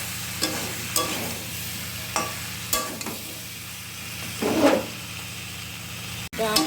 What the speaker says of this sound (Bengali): ডাঁটা আলুটা ভালো করে কষিয়ে নিই।